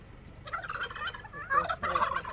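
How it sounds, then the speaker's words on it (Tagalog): A turkey gobbles repeatedly at close range on a farm raising mixed breeds, with rapid rattling bursts that grow louder toward the end over steady background noise. "O, tignan mo itong pabo."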